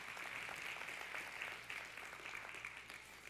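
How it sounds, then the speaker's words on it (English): Applause from a church congregation on a Sunday night, a steady wash of many hands clapping that holds evenly throughout at a moderate, somewhat distant level. "Let's give them another round of applause."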